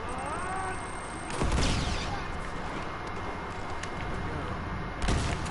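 Shotgun fire in Uncharted 2: Among Thieves, two heavy, booming blasts a few seconds apart, each with a short rumbling tail over continuous game background noise.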